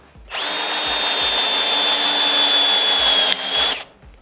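A cordless drill from a four-piece battery power tool set runs steadily for about three and a half seconds, driving a screw with a high whine and a brief dip near the end, loud and close with no talk.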